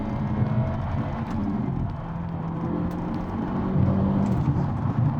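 A Hyundai i30 Sedan N engine drones from inside the car on a winding road, a steady low rumble with mild rises in pitch as it pulls through the gears, no voices over it.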